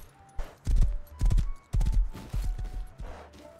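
Horse hooves clip-clop in the Rust video game, a run of several quick, heavy thudding steps in close succession, loud and near, with no talk over them.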